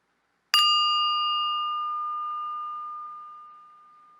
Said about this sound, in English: So we'll be starting the exercise at the sound of the bell